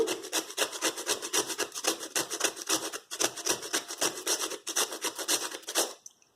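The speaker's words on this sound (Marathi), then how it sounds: "आता वेलदोडे पावडर थोडस किसून घेऊया" Cardamom is grated by hand for a dry fruit barfi, making a steady run of close, rhythmic rasping strokes, about three per second, that continue for several seconds before stopping.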